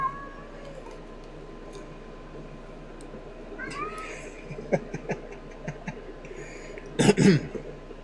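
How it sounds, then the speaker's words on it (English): A cat meows a few times indoors, soft rising calls near the middle followed by a louder, closer meow toward the end, over a faint steady background hum. "Cats."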